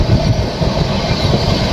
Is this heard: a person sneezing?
no